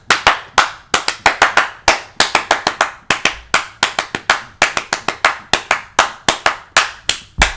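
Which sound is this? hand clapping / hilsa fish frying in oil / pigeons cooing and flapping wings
hand clapping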